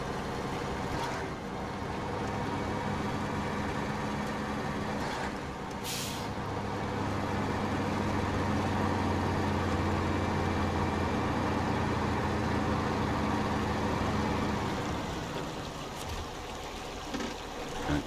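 A truck engine idles and rumbles steadily in SnowRunner on the Sliprock Peaks map, a low continuous drone with a brief air-brake hiss near the start, fading out toward the end as the engine shuts off.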